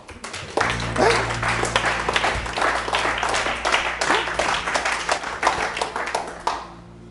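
A church congregation acclaiming during a service: sustained, dense applause with many hands clapping fast and unevenly, fairly loud and steady before fading out at the end.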